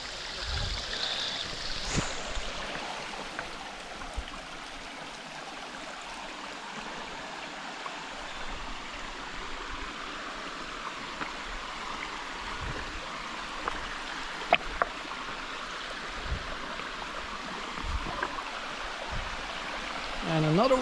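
Water rushes continuously through the Zejmarska Roklina gorge in Slovakia's Slovak Paradise, where a waterfall and stream give a steady broadband wash. A few faint knocks and brief sounds rise over it.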